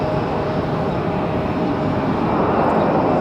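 Airplane departing from Raleigh-Durham International Airport, a loud, steady broadband jet rumble that holds constant and grows slightly toward the end, with no talking.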